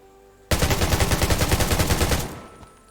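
Rapid automatic gunfire in the survival shooter game Undawn, a loud sustained burst of evenly spaced shots lasting about two seconds before cutting off into quiet.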